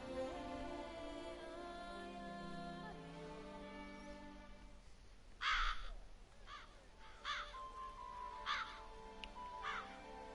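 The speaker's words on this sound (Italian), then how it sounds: "Pieno di cornacchie." Crows caw repeatedly in a video game set in The Witcher 3 world, with several sharp harsh calls over a steady ambient background and no talking.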